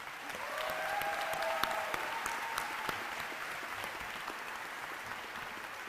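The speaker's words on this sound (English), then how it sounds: "Would you please give them a round of applause?" Graduation audience applauding a state senator and a lieutenant governor: steady, dense clapping from a large crowd, a broad wash of sound holding at even loudness for about six seconds, with a faint whistle early on.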